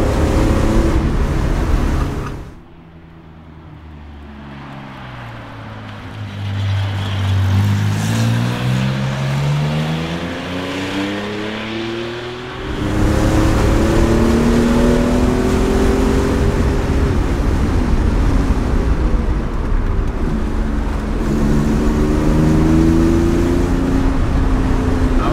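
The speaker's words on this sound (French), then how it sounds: "le son de voiture de course" A Porsche 911 Carrera 2.7 RS Touring engine revs loudly and close, climbing in pitch through the gears with a brief lift-off and a shift before pulling hard again in a sustained roar.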